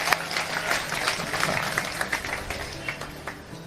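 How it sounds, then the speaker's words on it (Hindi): A live audience claps throughout a Hindi satirical poetry recitation, a steady patter of scattered hand claps at moderate distance, with faint voices underneath. "अब आपकी तालियां उठेंगी"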